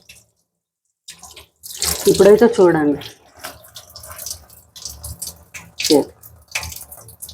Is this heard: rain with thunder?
no